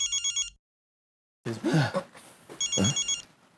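A mobile phone rings with a short electronic trill in pulsing bursts, then after a pause a man coughs and clears his throat, and the ringing returns faintly beneath him.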